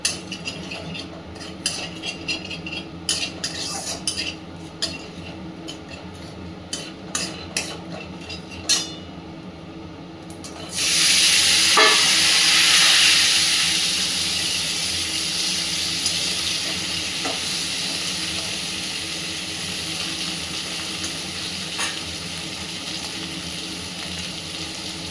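Nigella seeds tossed into hot oil in a home kitchen pan, first a run of sharp pops and clinks, then a sudden loud rushing sizzle that settles into a steady frying hiss under a running chimney fan.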